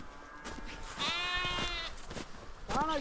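Sheep bleating in a flock being herded by a shepherd in Kashmir, several wavering bleats rising at intervals over a murmur of distant background voices.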